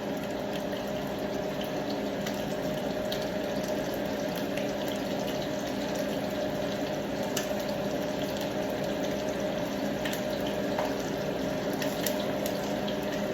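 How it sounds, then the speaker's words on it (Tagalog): Warm water pours steadily into a glass in a home kitchen, a continuous close trickling rush that runs unbroken for over ten seconds with no talk. "Tubig na maligamgam."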